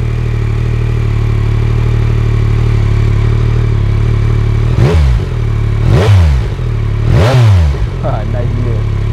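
A 2022 Yamaha MT-09 motorcycle engine idles with a steady, close rumble, then three sharp throttle blips rise and fall at roughly one-second intervals before it settles back to idle.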